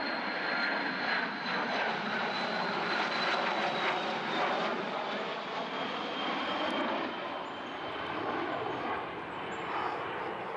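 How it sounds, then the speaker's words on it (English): Military fighter jets passing overhead near a fighter wing base with afterburners lit, a loud, steady roar holding for about ten seconds with a slight whine sweeping through it. "Kick in the afterburners, of course."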